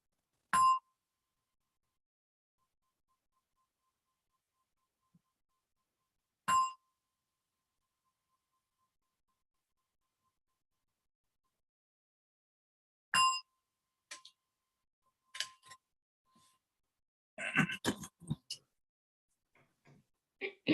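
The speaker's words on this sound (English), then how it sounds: "as you hear a gong come out from a meditation" Meditation gong ending a mindfulness session, struck three times at even, widely spaced intervals, each a clear ring that decays quickly into silence, followed by faint rustling and shuffling.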